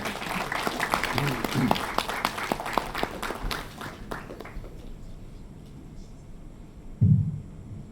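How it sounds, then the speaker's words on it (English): Audience applause at a keynote address at the iSTAR Conference, BITS Pilani, welcoming Dr. Saasa: a burst of clapping that fades over a few seconds to a low hum, with a brief thump near the end. "let us give a huge round of applause in welcoming Dr. Saasa to the program"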